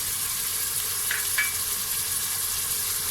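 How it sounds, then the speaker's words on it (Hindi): Spices such as cinnamon and cardamom frying with black chickpeas in a pan, an even, close sizzling hiss with two quick faint clinks near the middle. "दालचीनी और इलायची डाल के थोड़ा सा और भूनेंगे।"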